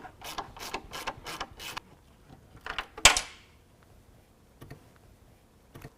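A 10 mm bolt being removed below the headlight of a 2017 Ram 1500 bumper: a quick run of ratchet clicks, then a sharp metallic clink and a few scattered ticks, close and faint without talk.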